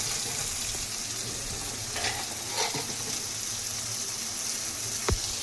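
Chopped onions frying in hot oil during tempering for a Tamil brinjal and chickpea curry, a steady dense sizzle with occasional soft stirring scrapes and a brief clink near the end.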